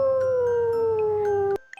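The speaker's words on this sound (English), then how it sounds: "You are right, it's a wolf." A single long wolf howl, a clear steady tone that slowly falls in pitch for about a second and a half before stopping abruptly, with no voices over it.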